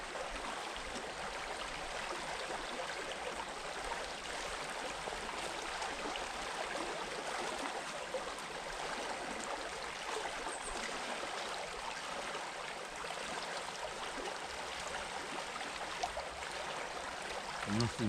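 The River Kensey flows in a steady, soft rush of water, a continuous low-level burble with no voices.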